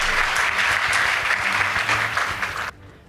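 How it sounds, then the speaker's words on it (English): Audience at a school debate competition giving a round of applause, many hands clapping briskly and fairly close, with a low hum beneath, then cutting off abruptly near the end. "Please give them a round of applause."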